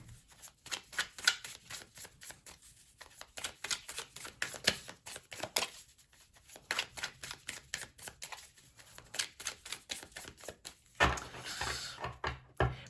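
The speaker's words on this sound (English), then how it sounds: "let me get a couple cards here to go with the Bat" Oracle cards being shuffled by hand in a Virgo zodiac tarot reading, a steady run of crisp riffling and slapping bursts that pause briefly and resume, close and fairly loud with no talk over them.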